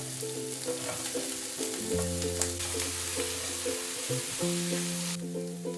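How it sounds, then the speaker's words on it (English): Shredded carrots fry with pork and vegetables in a hot wok, a close, continuous sizzle with occasional stirring scrapes over a droning background hum. "Add the shredded carrots."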